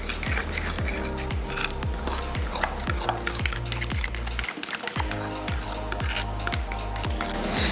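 A utensil stirs all-purpose flour into lava cake batter in a bowl, making steady rhythmic scraping strokes close by, with a musical backing underneath.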